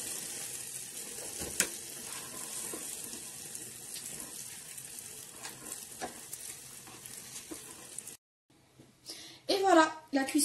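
Bambalouni, Tunisian doughnuts, fry in hot oil with a steady, close sizzle for several seconds. The frying then cuts off and gives way to brief running water and a voice.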